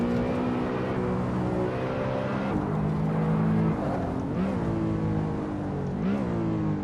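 A BMW E92 M3 in the Assetto Corsa racing game, its engine droning steadily under load with rising revs, then brief dips and swoops as it shifts gears, heard alone and fairly close.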